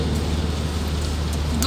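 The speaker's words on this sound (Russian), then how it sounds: "Дождь не прекращая льет." Heavy rain pours down without pause, a dense, steady hiss that fills the whole short moment at an even loudness, with no voices.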